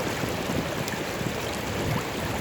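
A river flows with a steady broadband rush of water, close and continuous without pause.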